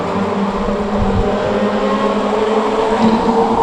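Stock rod race cars circling the oval at Cowdenbeath Racewall, a loud continuous roar of several engines with rising and falling tones as the pack passes, no speech heard.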